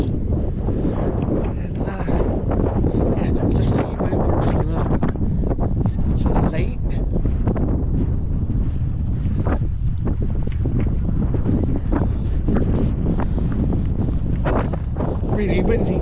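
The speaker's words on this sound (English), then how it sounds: "Really windy today." Strong gusts buffet the microphone on the Portishead seafront near the lighthouse and open-air pool, a loud continuous low roar and rumble that lasts throughout, with faint voices underneath.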